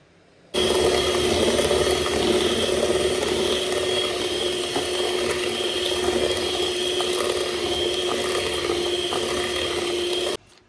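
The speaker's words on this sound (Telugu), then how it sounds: "దీన్ని హ్యాండ్ మిక్సర్ తోటి ఒక 2 మినిట్స్ మీడియం స్పీడ్లో బీట్ చేసుకోవాలి" Steady electric whirring hum of a hand mixer running at constant speed for about ten seconds, starting and stopping abruptly.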